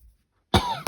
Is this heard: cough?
yes